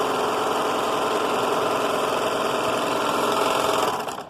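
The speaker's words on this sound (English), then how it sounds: "you're going to sew each short seam just like that until it makes a solid circle" A sewing machine stitches short seams on a cowgirl costume skirt, a loud, steady mechanical whir with a rapid needle rhythm that runs unbroken and cuts off at the end.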